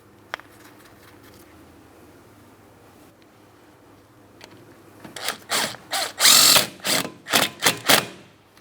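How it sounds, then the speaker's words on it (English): Power tool driving a brake rotor mounting bolt on a 2003-2007 Cadillac CTS during a front hub job, a faint hum first, then several short loud whirring bursts with brief pauses, close by. "Go ahead and install the mounting bolt."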